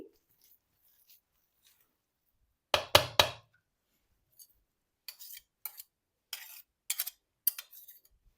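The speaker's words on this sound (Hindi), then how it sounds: "अब बाकी का काम मैं चम्मच से करूंगी।" A spoon clicks and taps against a bowl while mashed lentils and chicken are mixed for shami kabab, one quick cluster of knocks followed by sparse, light clinks in an otherwise quiet room.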